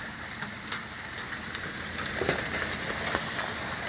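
Steady rainfall patters on surfaces outdoors during a rainstorm, a dense continuous hiss with scattered sharper drops, moderately loud and without voices.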